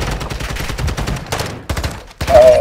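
Rapid gunfire from Call of Duty: Modern Warfare II in a Hardpoint match, loud close bursts of shots with brief pauses and a final flurry, game effects layered on top.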